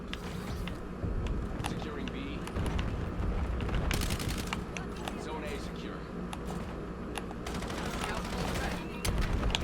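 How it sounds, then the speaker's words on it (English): SMG fire in the video game Call of Duty Black Ops 7, heard as steady rapid bursts and scattered shots across a busy, dense game soundscape, with a player talking over it. "That's the SMGs I know and love in Call of Duty games."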